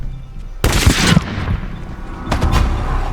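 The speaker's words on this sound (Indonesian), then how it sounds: "Aldrich muncul dan menembak salah satu warga di hadapannya" A burst of movie gunfire, loud close shots breaking out suddenly, one heavy volley followed by a second cluster of shots, with echoing rumble between them and no talk.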